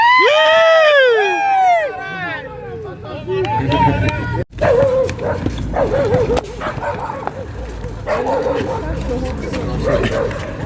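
Dogs bark and yelp nearby, a burst of high whining yips at first, then scattered barks continuing under background noise and voices.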